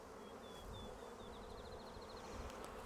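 Honeybees buzzing over a brood frame in a nuc box during split assembly, a steady close insect drone running throughout with a thin whine rising and wavering above it.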